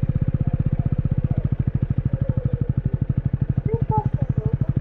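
A Honda Rebel 250 SE motorcycle with E-Clutch, heard close up as it heads onto an expressway. The engine idles or chugs with a rapid, even pulsing throb, and the rider talks faintly over it.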